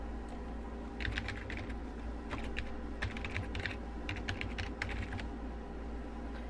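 Close, fast typing on a computer keyboard while logging in, with rapid irregular clusters of key clicks over a steady background hum and no talking.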